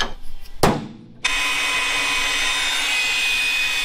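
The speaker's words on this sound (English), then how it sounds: "we got this one all drilled" A power drill bores holes in the rear suspension area of a bus. A short burst and a sharp clatter come first, then a loud, steady, high whine runs continuously close by with no talking.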